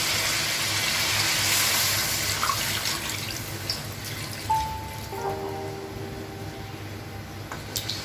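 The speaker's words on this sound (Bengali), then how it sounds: "দিয়ে দেবো পরিমাণ মতো ঝোল।" Curry broth is poured into a pot for a potato-aubergine hilsa curry, a steady watery splashing rush that thins into trickles and drips, with faint background noise.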